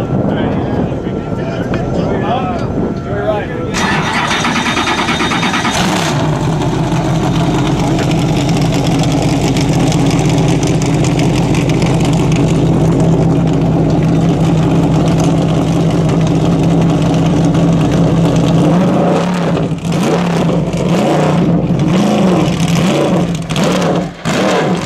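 Cadillac CTS-V coupe race car, a World Challenge GT car of about 500 horsepower, at Homestead Miami Speedway, its loud engine idling and revving up close, with someone talking over it throughout.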